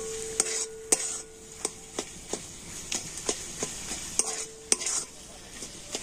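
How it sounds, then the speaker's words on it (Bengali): Spice masala with cumin seeds is stir-fried in a pan while making a flattened-rice filling: a continuous sizzle runs underneath as a spatula scrapes and taps the pan in sharp, irregular strokes, close and fairly loud. "জিরেটা দিয়ে আর মশলার সাথে কিন্তু খুব ভালো করে কষে নেব"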